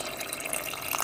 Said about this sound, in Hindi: अब हम पहले यखनी वाला पानी डाल देंगे